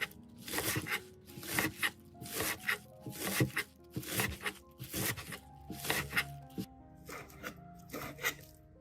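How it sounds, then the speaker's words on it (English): A knife chops green onions into bite-sized pieces on a cutting board, a run of about a dozen crisp, evenly spaced cuts close by, with each stroke landing sharply and then tapering off. "Another way is to cut it into bite-sized pieces."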